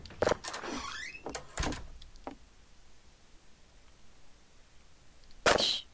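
Door in the video game Nestlings opening with a creaking, sliding sweep near the start, set among a few sharp knocks and clicks, then a quiet stretch ending in another brief burst.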